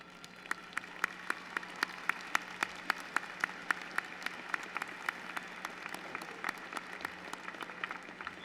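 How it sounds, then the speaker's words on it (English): A commencement audience applauds steadily, a sustained wash of many hands clapping at moderate distance, without a break for the whole stretch. "please stand and accept our applause for their service this morning"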